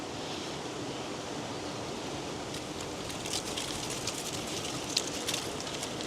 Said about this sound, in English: So we still got quite a bit of water coming out.